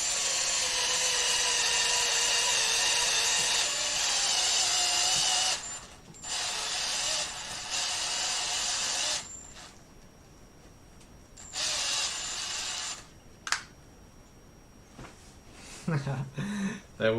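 A power tool driving a tap into holes in a soft aluminium part during a mill build, whirring steadily in long bursts with pauses between them, followed by lighter handling clatter near the end.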